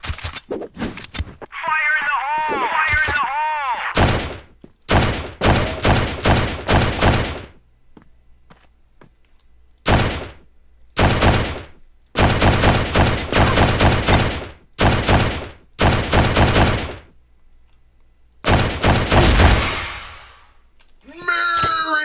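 Rapid bursts of automatic gunfire from a game weapon, sharp and loud, separated by short pauses, with a brief voice near the start.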